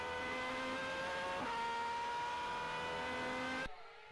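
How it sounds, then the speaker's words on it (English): A high-pitched V12 Superleague Formula race car engine wails steadily at high revs at Zolder in 2010, loud and sustained, with a brief gear-shift dip, then cuts off abruptly. "It's a great sound from these V12 engines as well"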